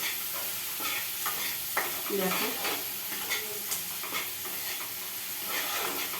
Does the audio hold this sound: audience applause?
no